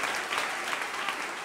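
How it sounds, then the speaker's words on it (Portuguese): A church congregation applauds together, a dense, steady wash of clapping that fills the room for the whole stretch with no voices standing out. "Você pode aplaudir o Senhor?"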